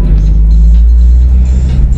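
Abarth 124 Spider sports car driving, heard from inside the cabin as a loud, steady low engine rumble and road drone with faint hints of revving throughout.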